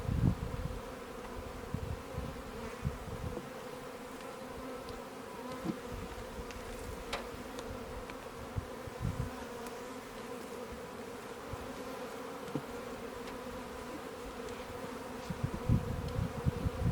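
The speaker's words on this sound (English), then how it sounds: "I just see worker bees on the bottom." Honey bees from an opened hive box hum in a dense, steady buzz throughout, with a loud swarm drone close by and individual bees whirring past now and then.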